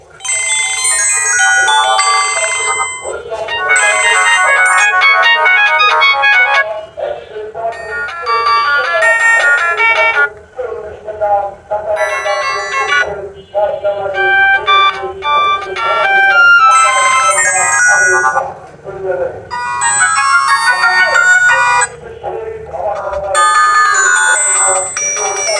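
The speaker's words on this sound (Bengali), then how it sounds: "তার আগে আমি দুইটা ফোনের রিংটোনের যে সাউন্ড এইটা একটু শোনাবো।" Ringtones from Itel and Symphony button phones play one after another, loud bursts of electronic melody separated by short pauses.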